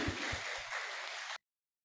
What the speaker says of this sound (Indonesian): Tepuk tangan dulu buat Siti